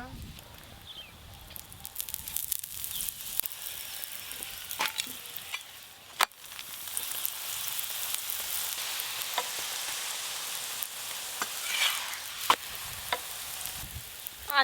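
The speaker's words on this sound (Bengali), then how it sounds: "আবার একটা আলুর পরোটা ভাজা হয়ে গেল" Aloo paratha fries on a pan over low heat, a steady close sizzle with scattered sharp ticks and scrapes as it is turned, while people talk intermittently over it.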